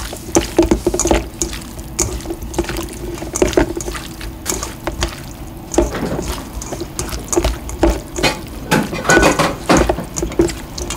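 Bare hands toss cuttlefish salad with sesame oil and minced garlic in Tongyeong, making close, wet squelching and sloshing in irregular bursts, with occasional clinks of a dish.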